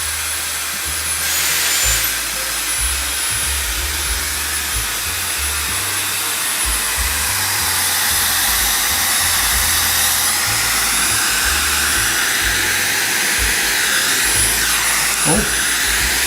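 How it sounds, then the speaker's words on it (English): A hair dryer on its lowest setting blows over a pour painting, a steady whooshing airflow roar held close and constant throughout. "Hair dryer."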